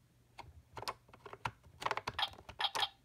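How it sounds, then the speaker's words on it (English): A Littlest Pet Shop toy computer gives off a faint patter of small electronic clicks and taps that build into brighter chirping beeps toward the end, heard alone at close range. "This first sound effect is the computer."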